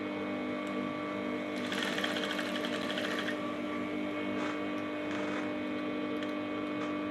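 A sewing machine stitches a lapel top, its fast mechanical whir and needle chatter running continuously over a steady electrical hum, with a louder burst in the middle and no voices.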